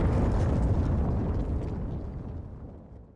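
A grenade explodes in CS:GO, a loud booming blast that rumbles and slowly decays over about three seconds and stands alone without talk.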